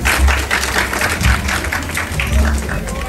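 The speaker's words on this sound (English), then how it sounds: "Please give them a huge round of applause." Audience applause at a community Diwali celebration in Ottawa, a steady wash of clapping with low thumping and some background noise.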